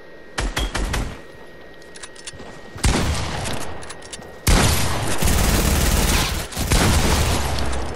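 Video game gunfire erupts in rapid automatic bursts, first several short volleys, then a long, loud sustained stream of shots with brief pauses, dense and close throughout.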